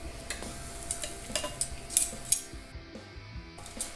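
Giant puffball mushroom slices searing in a cast iron pan, with a soft steady sizzle and occasional light scrapes and taps of a utensil against the pan, close and fairly quiet.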